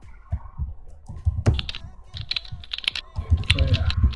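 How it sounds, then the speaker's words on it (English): Computer keyboard keys tapped in quick irregular bursts while a song title is typed into design software, close and clear, with a few louder key strikes and faint low background noise; no talking. "the next thing I'm going to do is type in the title"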